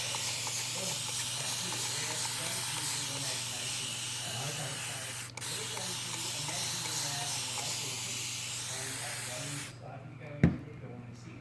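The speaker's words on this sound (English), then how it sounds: "So, got my sprayer here. It's like a light mister." A light hand mister spraying over a seed tray of pansy seeds and mix, a long, steady close hiss that cuts off near the end with a small clunk.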